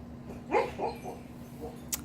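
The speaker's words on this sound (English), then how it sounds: "My dog is sleeping and barking in her sleep" A sleeping dog barking and whimpering softly in her sleep indoors, a few muffled short yips spread over two seconds against a quiet background hum, with a faint high chime near the end.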